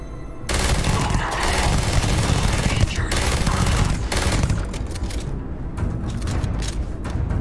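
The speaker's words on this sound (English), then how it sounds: "We'll use this rifle instead." Rifle gunfire in Starfield, dense rapid bursts of shots layered with booms and battle noise, loud and continuous for several seconds.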